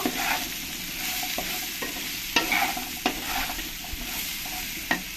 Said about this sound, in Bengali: লাউগুলো দিয়ে একবার আলু লঙ্কার সঙ্গে ভালো করে মিশিয়ে নেব